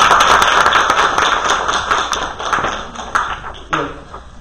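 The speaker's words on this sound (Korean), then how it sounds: "박수 좀 부탁드리겠습니다" Audience applause at the close of a lecture on cooperatives in Suwon, a dense wash of clapping that tapers over a few seconds, with some scattered louder claps near the end.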